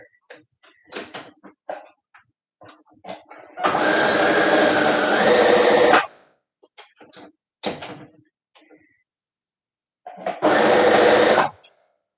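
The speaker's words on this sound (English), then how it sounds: "sewing the short sides of the rectangle for my ankle, for my knee cuffs" A sewing machine stitches the short sides of a fabric rectangle for knee cuffs at a regular stitch length, with two bursts of steady whirring, separated by short handling clicks and brief talk.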